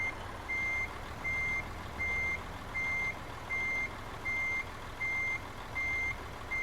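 Truck reversing alarm in Euro Truck Simulator 2, a steady series of about nine evenly spaced high beeps over a low idling engine rumble, loud and close with no talking.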